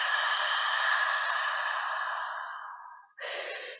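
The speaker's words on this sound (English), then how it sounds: "And exhale." Long, slow exhale during a slow-flow hatha yoga session, a close, breathy airy rush that fades gradually before a short fresh breath follows, with no talking.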